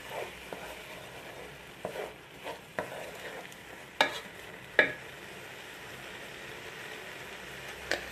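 Tapioca stir-fried in a pan with already cooked vegetables: a low sizzle under repeated scraping and clattering stir strokes that come at irregular intervals, a few of them sharper and louder.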